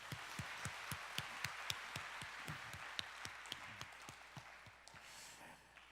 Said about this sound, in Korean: 우리 하나님께 감사의 박수를 드립니다